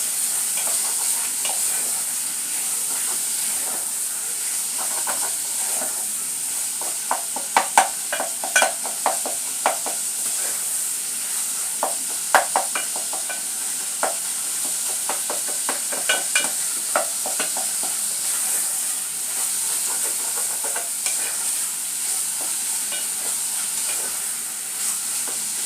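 Cold cooked spaghetti being separated and mixed in a hot pan, a steady close sizzle and hiss broken by irregular scraping and clacking of the utensil against the pan, with no talk.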